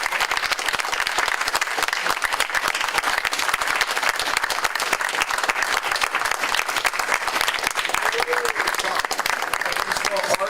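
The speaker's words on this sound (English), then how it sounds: "now everybody give a big clap." A workshop audience breaks into sustained, dense applause that carries steadily from start to finish, with many hands clapping close together and a faint murmur of voices underneath.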